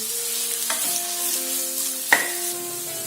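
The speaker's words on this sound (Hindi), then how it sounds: "ये मैंने प्याज को 2 मिनट तक फ्राई कर लिया है" Onions fry in a pan for a Matar Paneer curry, a steady close sizzle throughout with a few clinks of a utensil stirring, one sharper knock near the end, and no talking.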